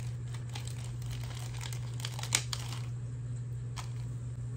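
A package being opened by hand before a spiderweb Halloween makeup look, soft close crinkling and tearing of packaging over a steady low electrical hum, with no talking.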